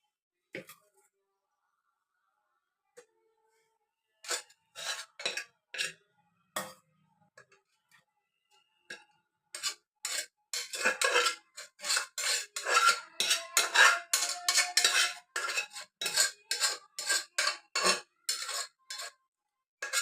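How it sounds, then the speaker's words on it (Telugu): Dishes and metal utensils being washed by hand in a home kitchen, with a few scattered clinks at first and then a dense run of clattering, scraping knocks close by. "ముందు ఈ సామాన్లన్నీ క్లీన్ చేసేసి"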